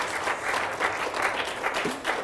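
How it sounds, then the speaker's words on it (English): A round of applause from an audience at a graduate exhibition event, steady clapping of a modest crowd lasting a couple of seconds with no talking. "Let's give them a round of applause."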